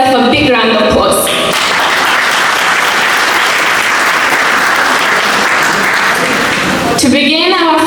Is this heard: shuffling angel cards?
no